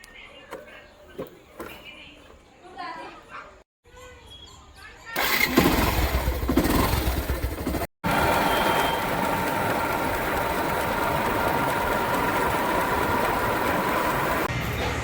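Faint voices, then a motorcycle engine cranks and catches, settling into a loud, steady running rumble close by.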